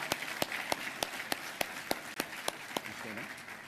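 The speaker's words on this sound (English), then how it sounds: "Ladies and gentlemen, please join me in a round of applause." Claps at an Army awards breakfast come as evenly spaced sharp beats about every third of a second over a background murmur, and a voice speaks briefly near the end.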